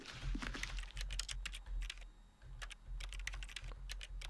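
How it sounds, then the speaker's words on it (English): Rapid keyboard typing in The Stanley Parable video game: bursts of crisp key clicks in quick runs, with short pauses between them, heard alone. "If you press E, this keyboard sounds."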